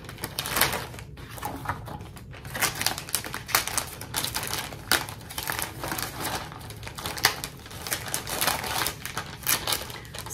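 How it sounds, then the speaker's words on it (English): A plastic bag holding a stitching kit crinkles close up in irregular bursts of crackling rustle, rising and falling throughout with no talking. "Sorry for the crinkling."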